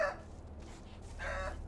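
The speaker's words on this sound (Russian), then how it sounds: "курочка." A chicken in the video game ELEX 2 gives two short clucks a moment apart over a low ambient game hum.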